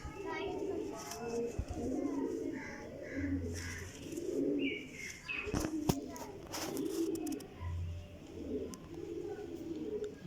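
A Teddy champion pigeon coos in soft repeated rounds close to the microphone while someone talks over and between the calls.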